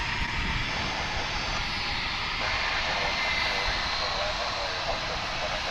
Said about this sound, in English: This is the UPS A300 coming in from Tulsa.